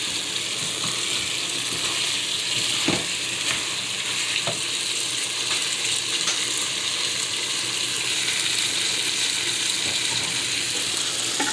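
Steady, crackling sizzle of tomatoes and potatoes frying in a pan for curry, continuous and close, with occasional light clicks of stirring and no voices.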